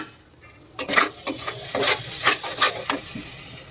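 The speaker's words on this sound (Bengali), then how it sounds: "এখানে আলু ভাজা হয়ে গেছে মশলা কষানো হচ্ছে" Masala spices stir-fry in a pan beside already-fried potatoes, quiet at first, then a run of brisk scraping strokes with a light sizzle underneath.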